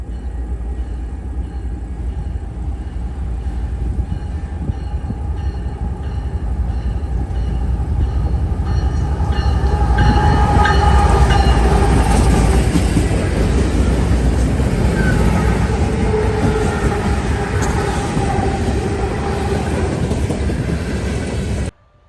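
North Platte to Proviso freight manifest train led by locomotive KWLX 8520, a loud, continuous rumble with rattling cars and clickety-clack that swells as it passes close by, then cuts off abruptly, with no talking.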